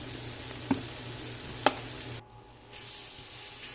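Liver gravy masala sautéing in a pan after salt is added, a soft steady sizzle with two sharp spoon clicks against the pan and a brief dip in the frying sound.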